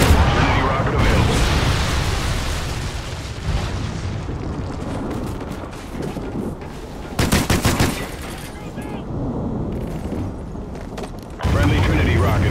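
Trinity rocket strike in Call of Duty: Ghosts, a loud run of explosive bursts and rapid gunfire, with a heavy burst near the middle and another near the end, while game voices call out.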